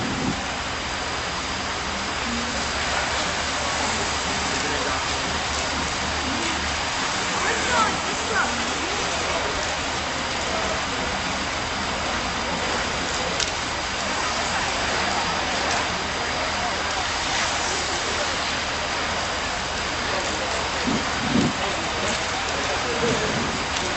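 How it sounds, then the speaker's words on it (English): Wet concrete pours steadily at a construction site, folding into itself with a continuous rushing, watery wash that holds at an even level throughout, with faint voices in the background. "This concrete falls into itself."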